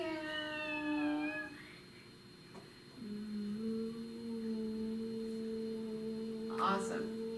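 A person imitates a cat's meow during a kids' yoga session: a few wavering, drawn-out mewing tones, then a long steady hum, with no other sounds.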